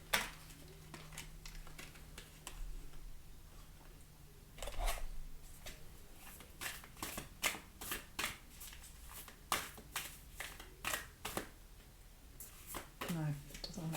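A deck of oracle cards being shuffled close up, a run of quiet papery riffles and soft flicks in irregular bursts, with faint room noise between them.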